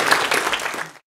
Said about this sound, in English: Let's give the Lord a clap.